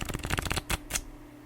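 Tarot cards are shuffled by hand in a quick run of crisp, riffling bursts, followed by a couple of louder single snaps before the sound fades into quiet.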